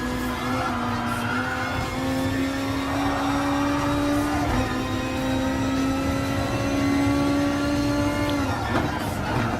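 Porsche 911 RSR race car engine in Gran Turismo Sport, a steady loud sustained tone held under throttle throughout, with a brief dip around the midpoint as the pitch drops slightly before climbing again.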